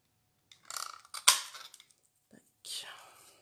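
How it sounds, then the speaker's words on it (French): A flag-shaped paper punch snipping the edges of paper for a card, several crisp cutting crunches and rustles in short bursts separated by quiet gaps, close up. "avec la perforatrice fanion, je vais venir couper les bords."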